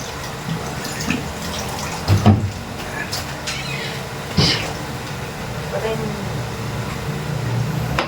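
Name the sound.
water poured into pot while cooking carp adobo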